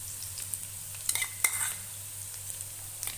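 Soft sizzle of onion, green chili and ginger-garlic paste frying in a pan, with a spatula stirring and scraping in short bursts of clinks and taps, no voices.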